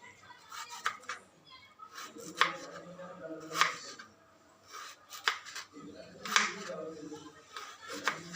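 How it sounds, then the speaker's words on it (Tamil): A knife chops capsicum into small pieces on a board, producing sharp, irregular taps in short bursts with softer rustling between them, close and fairly quiet. "இப்படி சின்ன சின்னதாக கட் பண்ணணும்."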